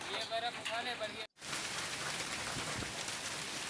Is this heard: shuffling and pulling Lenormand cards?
no